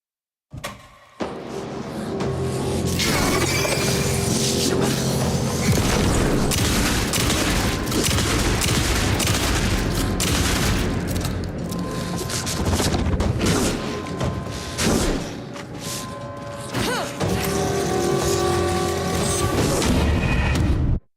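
Gun charging and firing in the video game Alan Wake 2: a dense, loud stretch of booming blasts and crashing impacts runs almost the whole time, with a brief lull near the start and another near the end.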